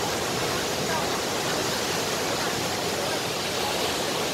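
The Qinglong waterfall at Shanlinxi in Taiwan, heard as a constant, even rush of falling water, loud and unbroken, with no voices.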